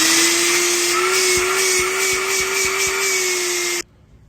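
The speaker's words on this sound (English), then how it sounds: "Got a free 5-gallon shop vac." A 5-gallon shop vac runs with a loud, steady whine and roar close by, then cuts off abruptly near the end, leaving quiet.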